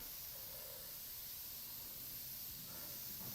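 An airbrush sprays paint in a steady, soft hiss for a few seconds, quiet and close, with no voices.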